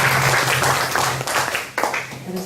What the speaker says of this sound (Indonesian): Boleh sekali kita beri tepuk tangan yang terbaik bagi Tuhan.